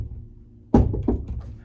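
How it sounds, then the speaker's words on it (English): A single solid knock on a door in a quiet room, followed by a couple of lighter raps that fade into silence. "Let's say you just came, you knock."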